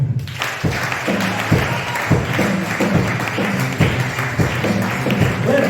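A church congregation claps and applauds together, a steady run of close, loud, rhythmic claps with faint voices mixed in underneath.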